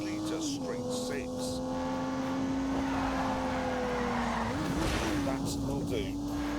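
Turbocharged 3-litre straight-six car racing in The Grand Tour Game video game, heard as a steady engine drone with tyre squeal and skidding, under a voice talking over it.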